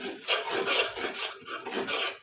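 Gram flour roasting in oil in a pan over low heat is stirred with a utensil, giving loud, close, rhythmic rasping scrapes in steady strokes with brief pauses between them.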